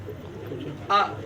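A single pigeon coo rises briefly near the end, close and moderately loud, over a low murmur of background noise.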